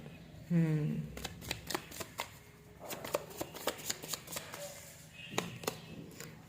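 Tarot cards shuffled by hand in repeated quick riffling, sliding bursts, close and fairly soft, with a faint voice briefly in the background.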